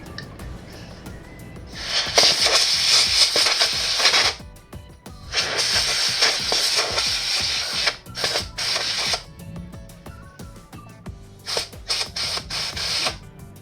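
Canned electronic air duster blowing dust out of the fan of an overheating Toshiba Satellite L775 laptop, several loud hissing bursts of a few seconds each separated by short pauses, close up with no talk.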